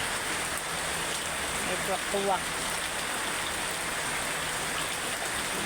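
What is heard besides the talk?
heavy rain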